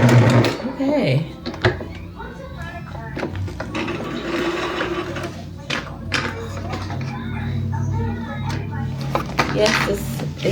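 A sewing machine runs stitches through fabric with orange thread, whirring in repeated short bursts at close range while a person talks over it.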